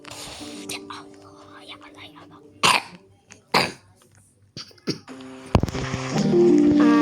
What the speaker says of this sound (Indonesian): Aduh, apa sih batuknya?